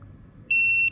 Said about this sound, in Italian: sto bip è proprio fastidioso